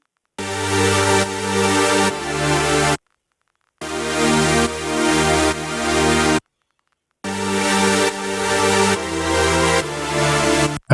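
Three layered supersaw synths built in Serum with unison saw oscillators, for a melodic dubstep track, play loud sustained chords in three bursts, each about three seconds long and separated by brief silences.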